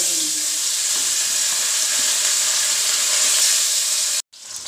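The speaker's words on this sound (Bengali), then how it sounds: "এবারে হলুদ মাখানো মাছগুলো ভেজে নিই।" Turmeric-coated fish frying in hot oil in a wok, a dense continuous sizzle and hiss close up, with a brief silent break near the end before it resumes.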